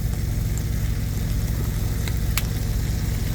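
Chicken sizzles steadily on a George Foreman grill, a close, even hiss of frying with a low hum underneath and a brief click near the middle, no speech.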